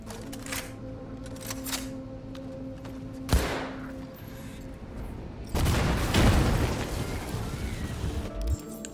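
Gunfire from a Cyberpunk 2077 fight while blowing up a drug factory: a few sharp isolated shots and a sudden loud burst of heavy firing near the end over a droning game background, with no talk.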